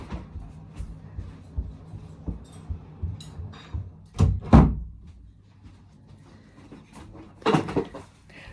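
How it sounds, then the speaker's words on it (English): An indoor door is pushed shut in a room, giving a couple of solid thuds midway and another bump near the end over low background rustle. "The dog's just opened the door and it's got really loud in here, so I'm just going to shut it"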